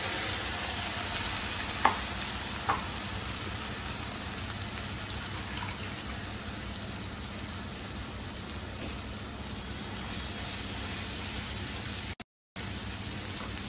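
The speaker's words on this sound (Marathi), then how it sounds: "हा मसाला छान परतून घ्यायचा तेल सुटेपर्यंत" Ground masala with turmeric and crushed garlic fries in hot oil over a low flame for a Malvani Bombay duck curry, producing a continuous gentle hiss with a couple of sharp utensil taps, close by and without speech.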